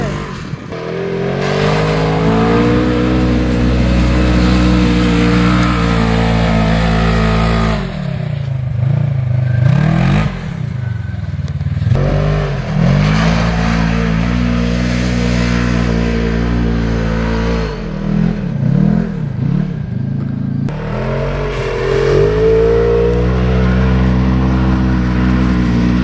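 A Polaris Sportsman 570 ATV engine revs hard while riding off-road, loud and close, its pitch rising and falling through repeated throttle bursts with a few brief dips and clattering in between.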